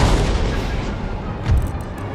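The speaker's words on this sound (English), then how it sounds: "Canister shot, fire." Cannons fire canister shot in a Total War Empire battle, with a dense, rumbling barrage of booms. A heavier thud follows partway through, and faint crackles sound in the background.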